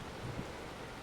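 Steady rain falls in a farming video game, a constant even wash of noise with a faint low rumble early on, no talk over it.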